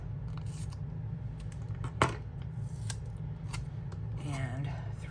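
Scissors snipping through ripped paper at a craft table while making a vintage beach-themed journal spread, a few soft close cuts with one sharper snip, under quiet room noise and some faint talk.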